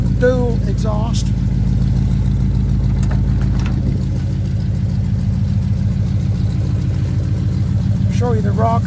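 A 1985 Chevy C10 V8 with dual exhaust idles steadily up close, a low, even rumble that runs loud and continuous throughout, with a slight change in tone partway through.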